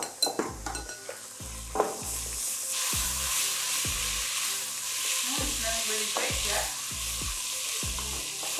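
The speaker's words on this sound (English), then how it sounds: "Give them a good stir." A wooden spoon stirs rinsed lentils in a cooking pot, giving a close, rhythmic series of about a dozen scraping strokes over a soft background hiss.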